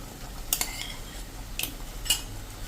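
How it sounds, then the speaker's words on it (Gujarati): Three to four tablespoons of fresh yogurt go into a pan of cluster bean curry, marked by three separate metallic spoon clinks against the pan over a quiet background. "હવે આમાં આપણે 3 થી 4 ટેબલ સ્પૂન એકદમ ફ્રેશ દહીં લીધું છે"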